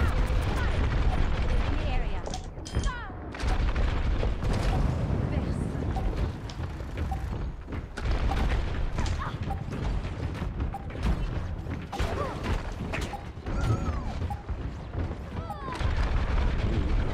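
Dense, loud gunfire and explosions from the video game Overwatch pound almost continuously, with brief lulls, while someone talks over the action.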